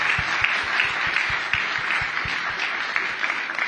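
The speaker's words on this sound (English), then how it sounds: "Can we have a round of applause for our panelists?" Conference audience at a COP 28 panel on industrial decarbonization applauds the panelists, a dense wash of steady clapping from a sizable crowd, fairly loud and sustained for several seconds.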